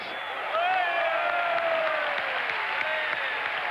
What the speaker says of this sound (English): Olmeta gets enormous applause around me for what was a pretty bread and butter save